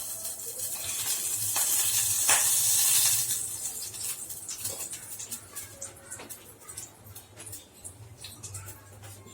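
Two spoons of oil sizzle and hiss in a pan, loudest at first then fading to a softer crackle with scattered pops.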